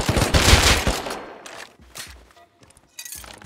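Bursts of rapid gunfire in the survival game Rust, a loud close volley followed by a few scattered, sharper shots and gaps of near silence.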